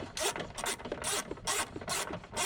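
Socket wrench ratcheting on a battery terminal nut of a 2014-2017 Subaru Crosstrek XV, a close series of rhythmic raspy clicking bursts repeating about every half second, alone with no talk.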